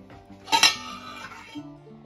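A pot lid clatters onto a cooking pot of khichdi with four cups of water heating: a single close metallic clink and rattle, then a low steady background hum.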